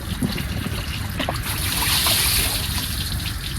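Coolant poured into a car makes a close, steady liquid trickle and gurgle that swells slightly midway, with faint knocks around it.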